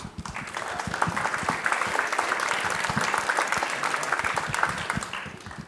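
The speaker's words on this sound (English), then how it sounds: "Please give a big round of applause to Foster Algier." An audience at a business meeting breaks into applause, a full round of dense clapping that swells and then tapers off.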